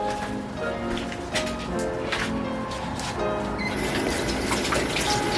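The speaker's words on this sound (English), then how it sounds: "Just washing my hands, guys, as you can hear the water." Tap water gushes steadily into a kitchen sink while hands are washed during curry seafood cooking, a continuous splashing flow at close range with light clatter mixed in.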